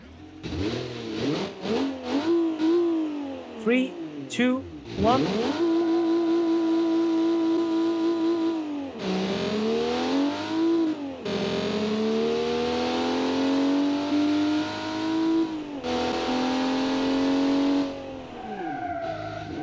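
A loud car engine in a video game revs hard and climbs through gear changes, roaring continuously with sharp rises and drops in pitch, while a voice briefly counts down.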